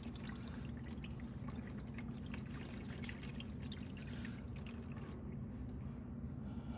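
A quiet, steady trickle of engine oil draining from a 2022 Ford Explorer ST into a drain pan, continuous and faint with no voices.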